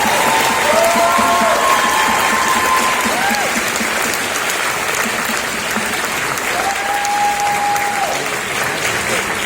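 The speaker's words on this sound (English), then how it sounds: "Let's give another round of applause to the cast and crew." Audience applause for cast and crew at a film festival Q&A in Los Angeles, a dense steady wash of clapping lasting several seconds, with faint tonal sounds passing underneath.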